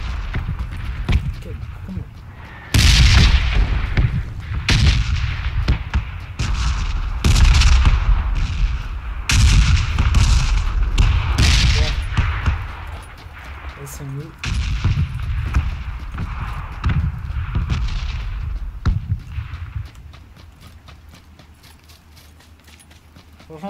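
Red zone bombardment in PUBG on PC, repeated heavy explosions and booming impacts arriving in irregular bursts over a long stretch, with someone talking over parts of it.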